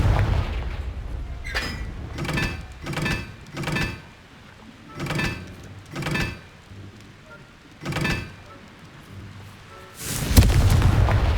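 Repeated Confringo fire-spell blasts in Hogwarts Legacy, eight or so punchy booming explosions spaced roughly a second apart, each with a short fiery tail, followed by a longer, louder roaring burst near the end.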